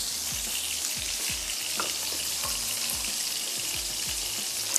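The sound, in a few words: water added to sizzling kebab gravy in a pan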